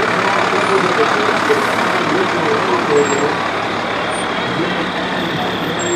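A fire engine rolls through a holiday parade, its engine a loud, steady rumble and broad roar that fills the scene close by, with a few faint high tones above it.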